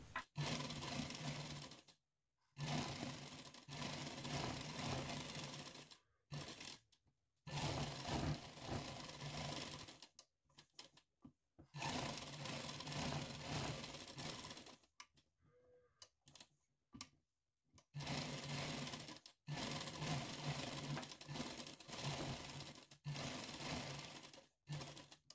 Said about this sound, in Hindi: मिलाकर इस तरह से रखकर इस पर सिलाई लगानी है।